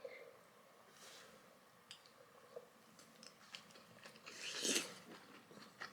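Someone takes a bite of homemade kimchi fried rice, giving soft crunchy chewing close to the mic with a louder crunch near the end; no talk, quiet room.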